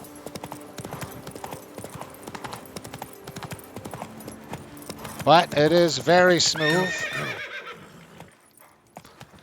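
A horse in The Witcher 3 video game neighs loudly in a long, wavering whinny after a stretch of steady clip-clopping hooves, with someone talking over the gameplay.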